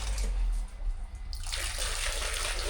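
Water is scooped and poured into a toilet to flush it in a rustic bathroom, a close gush and splash that surges after a brief lull. No one speaks.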